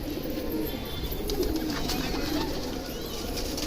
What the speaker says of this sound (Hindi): संदीप भाई ने और भी कबूतर खोल दिए हैं